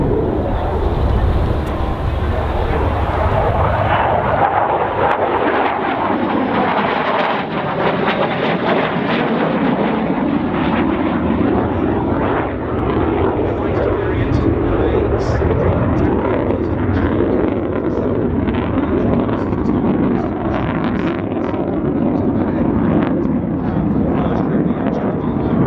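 A Saab AJS-37 Viggen jet at an airshow gives a loud, sustained roar filling the whole stretch, with a broad rushing rumble that shifts slowly in pitch as it passes.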